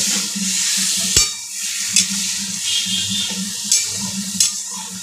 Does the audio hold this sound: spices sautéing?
yes